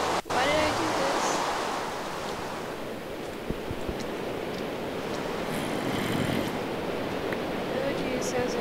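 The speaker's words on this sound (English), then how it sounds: "sounds like water" Running water in a zombie island survival video game pours as a continuous, loud broadband rush, like a stream or waterfall, steady throughout with a few faint clicks over it.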